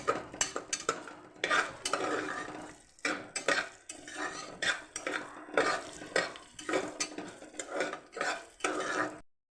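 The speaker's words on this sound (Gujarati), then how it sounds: "આપણે થોડી વાર ચોખાને શેકી લીધા છે" Rice roasting in ghee in a pot for doodh pak, made in a pressure cooker, with a spoon scraping and stirring in a steady rhythm of close, repeated strokes and a soft sizzle underneath, running continuously before cutting to quiet.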